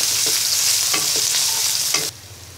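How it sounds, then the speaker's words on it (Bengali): Whole spices, cinnamon and bay leaves, with onion sizzle in hot oil for Bangladeshi ilish korma, a loud steady crackle broken by a few scraping stirs, then the frying drops sharply to a faint hiss. "এবার কিছুক্ষণ ভেজে নিব"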